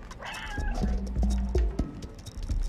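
A cat meows and caterwauls repeatedly at close range in the video game Stray, several short cries in quick succession over a steady background bed.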